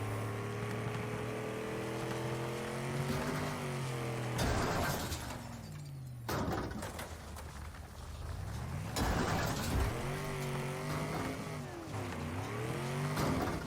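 Car in the video game Wreckfest deliberately wrecking itself, engine droning and revving with pitch sweeps, broken by loud crashing impacts and sudden cutouts, close and loud with no talking.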